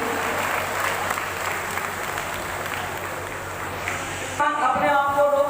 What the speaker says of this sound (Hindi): जोरदार तालियों से सभी छात्रों का स्वागत कीजिए।